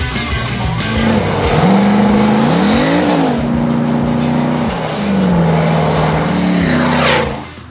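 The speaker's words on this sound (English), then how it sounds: "Lex Motorsports has their crazy Chevy truck, kind of pre-runnered out, turbocharged LS motor." A turbocharged LS-powered 2008 Chevy Silverado half-ton pre-runner truck driving hard, its loud engine rising and falling through the revs with tire squeal and a hissing turbo whoosh near the end, close and unbroken, no talking.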